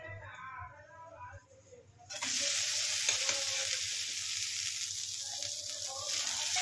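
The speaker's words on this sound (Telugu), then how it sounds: "ఇప్పుడు ముందుగానే వండి ఉంచుకున్నటువంటి అన్నాన్ని ఇప్పుడు ఈ కారంలో వేసుకోవాలి" Cooked rice is tipped into chili powder in a pan and stirred, starting with faint scraping, then a sudden loud, continuous hissing sizzle and stirring that runs to the end.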